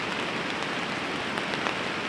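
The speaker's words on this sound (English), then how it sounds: "Love relaxing in the rain and enjoying the river, sound of the river." Rain falls steadily beside a rushing river, a dense, even hiss of drops blending with flowing water, close and constant for a couple of seconds.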